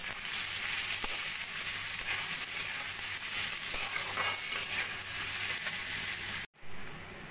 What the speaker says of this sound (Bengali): মুগ ডাল দিয়ে সবজির সঙ্গে একটু ভাজা ভাজা করে নেব।